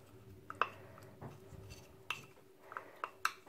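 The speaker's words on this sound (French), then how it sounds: "Après, vous mélangez le tout." Spoon clinking against a bowl while ginseng powder is stirred into a mixture: several light, scattered metallic taps and scrapes at close range, quiet and irregular, with no talking.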